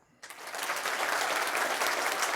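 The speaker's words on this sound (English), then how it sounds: "we're going to clap by approval" An audience bursts into clapping after a brief quiet moment, quickly building to a steady, moderately loud round of applause to approve a contestant's point at a men's competition.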